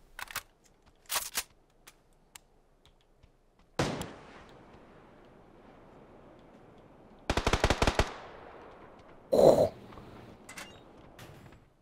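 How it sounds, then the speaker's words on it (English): Gunfire in the battle-royale game PUBG: scattered single shots early on, a louder report near four seconds, then a rapid automatic burst followed by one heavy blast, all fairly close with quiet gaps between. "Someone's laying rounds at me."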